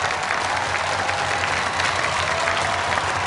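Studio audience of a Vietnamese game show applauding to welcome student contestants, a dense, steady wash of clapping that holds evenly throughout without a break.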